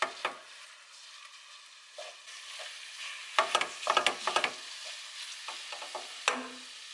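Ground beef being stirred in a hot pan for Italian ragu sauce, a quiet background sizzle broken by scraping, clattering stirs in clusters, with no talking.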